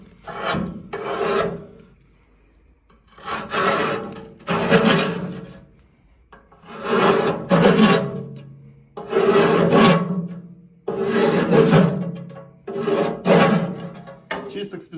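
A scraper drags along the metal walls of a RETRA-6M 21 kW boiler heat exchanger, loosening deposits in repeated rasping strokes about a second long, separated by brief pauses, loud and close.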